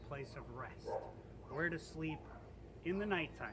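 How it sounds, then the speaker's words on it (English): Dogs barking at dusk, distant and intermittent in the background beneath someone talking steadily in the foreground. "You can hear the dogs in the background"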